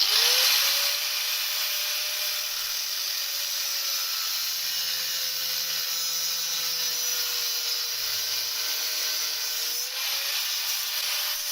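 A power tool cuts through the metal handle of a bucket seat, giving a steady, loud grinding whine with a faint tonal hum that holds for about ten seconds without pause. No one speaks.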